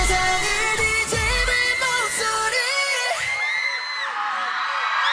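A K-pop concert crowd at a 2022 MBC year-end music festival screams and cheers continuously over loud music, with high-pitched shrieks and whoops rising above the performance.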